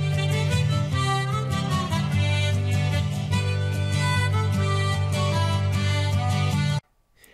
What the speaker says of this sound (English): there's also another harmonica type called the tremolo